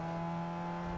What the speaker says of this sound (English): his engine sounds like a lawnmower